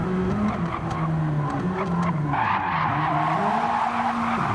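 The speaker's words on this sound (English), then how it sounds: "He's having to use the handbrakes now" Race car skidding under handbrake with worn front tires in the racing game Rallycross GT, a loud continuous engine drone with wavering pitch and sliding tire noise throughout, no talk.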